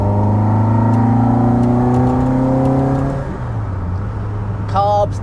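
A Mk1 VW Caddy on twin Webber 45 carburettors revs hard and close, holding a loud, steady high note for about three seconds before dropping back to a lower idle, with a brief whine near the end.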